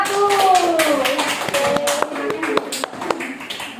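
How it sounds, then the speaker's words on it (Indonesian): Scattered claps from a classroom group applauding a student presentation team, sparse and uneven, mixed with a sustained voice or tonal sound running through. "Tepuk tangan untuk kelompok 1"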